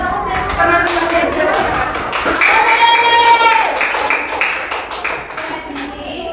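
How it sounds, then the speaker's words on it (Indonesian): Pupils in an Indonesian classroom clap for their classmates: a run of loud, evenly spaced claps and taps that keep a steady beat, with a few voices mixed in beneath. "tepuk tangan untuk teman-teman"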